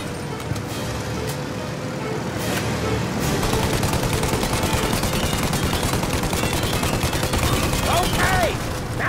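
Rapid gunfire rattles in Mafia: Definitive Edition during a chase against a plane, with dense bursts over a rumbling vehicle engine, loud and continuous, with shouted voices mixed in.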